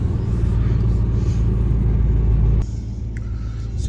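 A 1988 Chevrolet Monte Carlo SS T-top rumbles while driving, a loud, deep, steady engine drone heard from inside the car that drops off slightly near the end.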